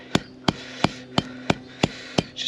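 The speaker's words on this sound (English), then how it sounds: "my view has always been it's okay to just hammer these out" Seven evenly spaced metal-on-metal hammer blows strike a steel winch cable with a flat spot on a Goodwinch winch drum, each a sharp, ringing, close-up impact in a steady rhythm, with no talk.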